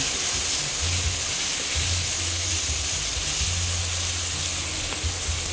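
Ingredients sautéing for squid adobo crackle and sizzle steadily in a hot pan, a close, continuous hiss with low scraping thumps from stirring, no voices.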